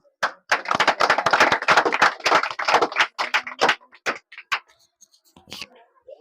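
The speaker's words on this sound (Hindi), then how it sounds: "तालियों।" Students at a Bihar board matric 2024 results celebration get a burst of close clapping from a small group, dense for about three seconds and then thinning into scattered single claps before stopping.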